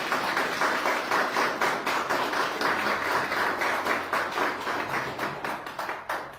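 A church congregation claps together in sustained, dense applause during a Spanish-language sermon, steady and close throughout with no talking over it.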